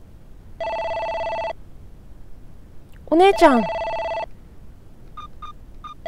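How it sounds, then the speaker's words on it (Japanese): A telephone rings in the PS1 detective game Jinguji Saburo, with two long electronic ring bursts and short chirps near the end; someone speaks briefly between the rings. "お姉ちゃん 電話だね。"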